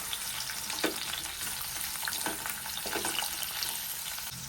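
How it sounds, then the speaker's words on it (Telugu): Chopped onion frying in oil in a pan for a capsicum masala curry, giving a dense continuous sizzle with occasional stirring scrapes, steady and close with no voices. "కట్ చేసి పెట్టుకున్న ఆనియన్ ఇందులో వేసి కొద్దిగా ఫ్రై కావాలి"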